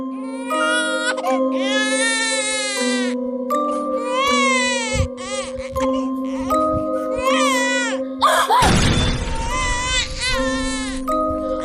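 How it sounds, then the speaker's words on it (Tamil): A baby cries in repeated wailing bursts with short breaths between them, close and loud, over a sustained musical drone. A sharp crash lands near the end, followed by a few more cries. "ஏய் ஏதோ குழந்தை அழுகுற சத்தம் கேக்குது"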